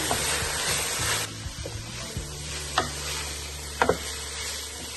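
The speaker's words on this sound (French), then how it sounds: "on ajoute le reste d'oignons, de paprika et de champignons. On va faire revenir ici également." Onions, paprika and mushrooms sauté in oil in a pan for a stuffed pumpkin dish, giving a steady close sizzle with a few sharp clicks and utensil knocks. No one speaks.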